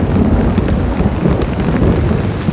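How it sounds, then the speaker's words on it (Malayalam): Heavy rain pouring beside a river in Potong Pasir, Singapore, on a misty afternoon, a dense, loud and steady hiss of falling water with a low rumbling undertone and no voices. "നല്ലൊരു മഴ."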